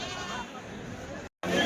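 Goats bleat amid the constant hubbub of the Tuesday goat market in Kadiri, with people talking over the noisy crowd.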